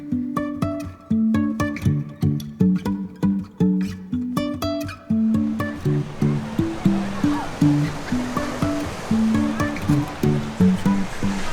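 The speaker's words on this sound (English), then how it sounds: "Last stop today, Punalu Black Sand Beach." Surf at Punalu Black Sand Beach on the Big Island, where plucked music first plays alone and then gives way to a steady, loud wash of breaking waves.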